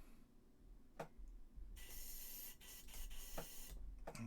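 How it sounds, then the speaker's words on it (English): An airbrush spraying off yellow paint while painting a McFarlane Toys Hellblaster Primaris marine figure: a steady airy hiss running through most of the clip, with a few brief clicks and taps. "I'm just spraying some off"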